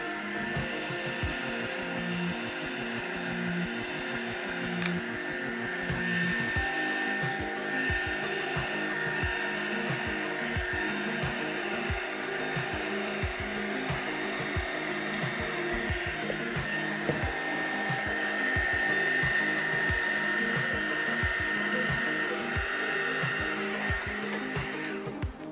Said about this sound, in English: And once again, I'm using this blower, and I'm not fond of this blower at all.